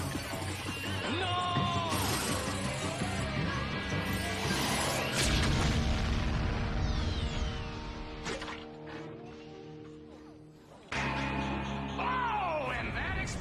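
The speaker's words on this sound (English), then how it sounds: "that explosion means nobody wins today's tournament" A bomb blast in an animated sci-fi series lands as loud crashing bursts and booms amid whooshes and mechanical clatter, with sharp impacts recurring across the scene before a final heavy hit.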